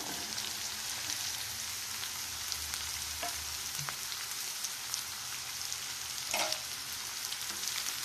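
Chopped spiny gourd (kakoda) and onions frying in a pan, giving a steady, fairly quiet sizzle throughout with a few soft scraping stirs and clinks.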